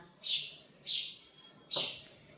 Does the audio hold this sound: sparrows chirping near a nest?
yes